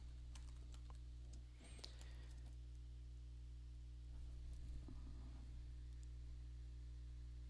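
Computer keyboard typing while someone writes Ruby code, with soft clicking keystrokes in short scattered bursts over a steady electrical hum, fairly faint and close.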